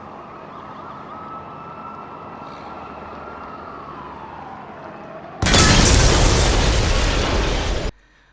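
An explosion in a film scene from Four Lions, where a man blows himself up inside a Boots shop: a sudden loud blast that roars for about two seconds after a quieter stretch with a falling tone, then cuts off.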